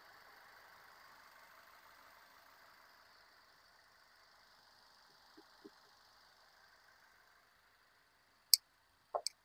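A quiet used car's engine idles with the microphone held close, a faint, even hum that fades out after several seconds, followed by a few sharp clicks.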